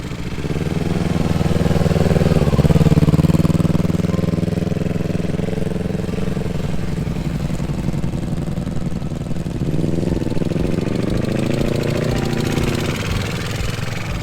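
A motorcycle engine runs at low, steady revs during slow-speed turn practice in a parking lot, a continuous close mid-pitched hum with slight rises and falls in throttle and no talk over it.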